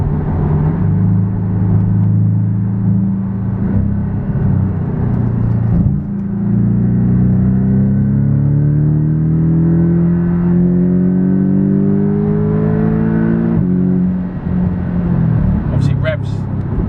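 Salvage Porsche Boxster GTS engine pulling hard through the gears, a steady loud drone that climbs in pitch, drops briefly at a shift and rises again, heard from inside the cabin.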